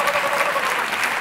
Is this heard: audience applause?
yes